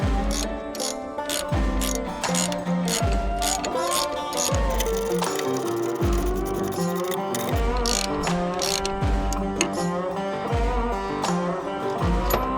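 A ratchet wrench tightens a Kryptonite sway bar end link on a Duramax truck, its pawl clicking in fast repeated bursts of strokes, close and loud, with no talk over it.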